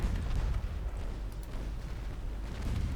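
Naval gunfire and exploding ships from the Ultimate Admiral Dreadnoughts warship game: a continuous, heavy low rumble of distant booms and blasts blending together for the whole stretch, with no talking.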